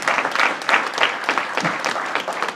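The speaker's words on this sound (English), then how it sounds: "So once again, give a round of applause" A crowd claps at a groundbreaking ceremony for a cancer center, a lively, loud patter of many hands with individual claps popping out of the steady rush.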